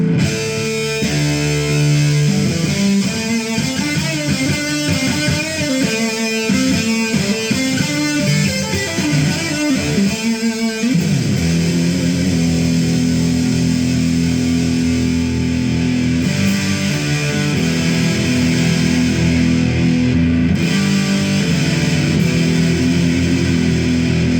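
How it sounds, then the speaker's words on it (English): Electric guitar run through a Jersey Devil Orthrus distortion pedal, loud and saturated throughout: busy riffing and chords for the first ten seconds, then sustained ringing chords with a dense, fuzzy edge. "it's a basic pedal as far as the distortion goes"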